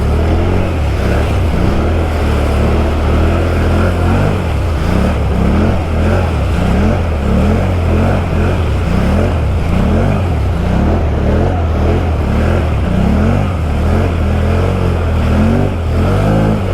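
A 2019 Can-Am Outlander 650 XMR ATV labours through mud, its engine revving loudly and steadily with a surging drone that holds for the whole stretch, no clear talk over it.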